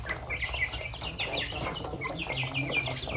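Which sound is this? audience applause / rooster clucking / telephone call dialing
rooster clucking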